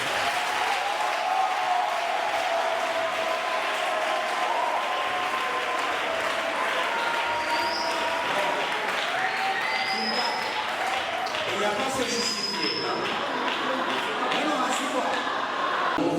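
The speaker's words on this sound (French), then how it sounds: "On acclame." An audience applauds without pause, a dense, even wash of clapping from a crowd that holds at a steady, fairly loud level throughout.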